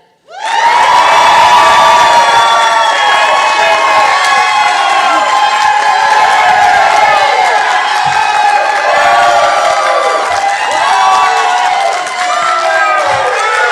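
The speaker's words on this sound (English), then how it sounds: "the one and only time to show your appreciation with applause" A large crowd at a political debate erupts in loud, sustained cheering and whooping with clapping mixed in, a dense roar that stays strong for over ten seconds.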